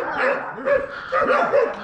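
Dogs bark loudly in quick repeated bursts close by on a farm, several overlapping barks and yips filling the short stretch.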